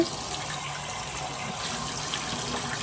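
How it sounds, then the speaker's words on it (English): Tap water runs steadily with a continuous splashing rush, close by and unbroken, as it pours over an unsanded tumbler cup. "So we're gonna run it under some water"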